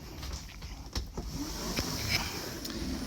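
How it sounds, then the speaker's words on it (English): Bunk beds in a 2021 Forest River Salem 29VBUD bunkhouse travel trailer flipping up on gas struts: a few soft thumps and clicks followed by a smooth hiss of the struts, close and moderately quiet, with no talking. "all you do is flip them up, and those are on gas struts"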